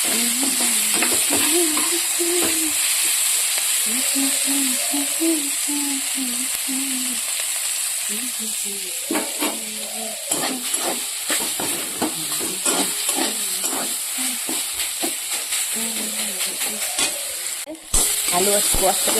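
Potatoes sautéing and being stirred in a hot pan, with a steady loud sizzle and repeated scraping strokes of the spoon throughout, no talking.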